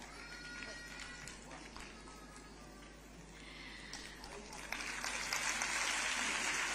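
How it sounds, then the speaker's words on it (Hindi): A crowd at a Chief Minister's launch event for a women's yatra claps faintly and distantly at first, then swells into steadier, louder clapping over the last couple of seconds. "ऊपर से तालियों की आवाज कम आ रही है"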